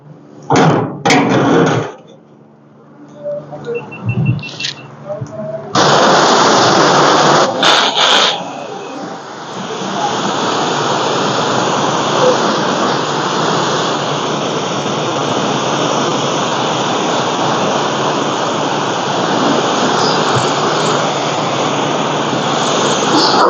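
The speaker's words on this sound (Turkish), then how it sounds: "Şimdi basınç suya geçiyoruz." A coin-operated car wash pressure washer sprays water onto a Honda Civic Eco Elegance, a loud, steady broadband hiss that holds for most of the clip after a few short bursts at the start.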